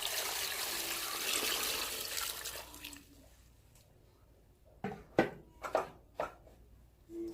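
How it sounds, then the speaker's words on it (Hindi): Water is poured into a cooking pot for black chana masala with garlic, tomato and spices, a steady trickling pour that stops midway, followed by several sharp clinks and splashy knocks of stirring. "और 2 से 3 गिलास पानी डालेंगे।"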